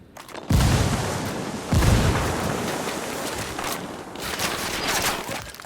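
A frag grenade blast and gunfire in the Ghost Recon Wildlands video game give two loud booms, followed by sustained rattling fire and further bursts of shots.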